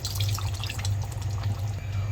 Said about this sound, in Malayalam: ഞാൻ എന്തായാലും ഒരു അര ഗ്ലാസ് വെള്ളവും കൂടെ ഒഴിക്കുന്നുണ്ട്